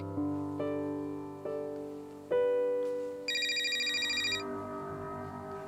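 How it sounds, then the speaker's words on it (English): A telephone rings in a home with a sequence of chiming tones that rise step by step, followed by a rapid trilling ring, loud and close with nothing else audible. "Danne's daughter, Trina, receives an unexpected phone call."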